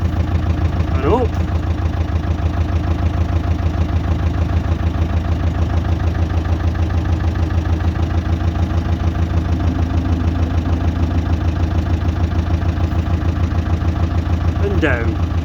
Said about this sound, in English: Lifting the front end of the tractor.